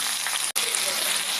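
Steady hot-oil sizzle of onion frying with mustard seeds and curry leaves for carrot poriyal, a dense close hiss that cuts out for an instant and resumes.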